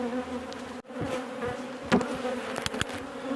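Agitated honeybees buzz close around open beehives during an inspection, a steady droning hum with individual bees whizzing past the microphone.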